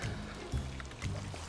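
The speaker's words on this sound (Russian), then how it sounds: "Я упал в воду!" A player character splashes into the sea in the pirate game Sea of Thieves, with three short low watery plunges about half a second apart over a steady wash of game water ambience.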